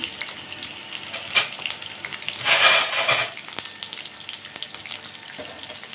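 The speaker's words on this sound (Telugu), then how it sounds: "నూనె వేడయ్యాక ముందుగా కట్ చేసి పెట్టుకున్న ఉల్లిపాయలు వేసి" Chopped onions hit hot oil in a pan and sizzle in a steady, close hiss, with a louder burst of crackling in the middle and a few stirring clatters.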